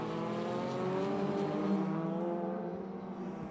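Sports 2000 Duratec race cars lapping a circuit during a championship round, engines droning steadily at high revs for the whole stretch, a continuous loud racing roar with no voices over it.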